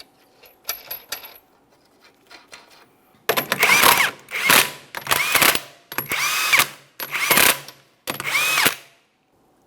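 An impact gun spins 21mm lug nuts onto the rear wheel of a 2008-2017 Mitsubishi Lancer, a few light clicks followed by six loud, close bursts of whirring and rattling, each roughly half a second, with short pauses between.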